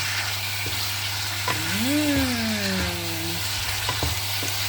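Ginger goes into chicken liver adobo frying in a pan, giving a steady close sizzle under a faint rising and falling whine, with a few light stirring knocks.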